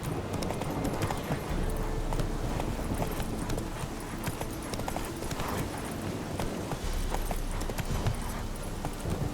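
Roach the horse gallops in The Witcher 3: Wild Hunt, a steady, continuous run of hoof clip-clops over ambient game sound, close and consistent for about nine seconds with no speech.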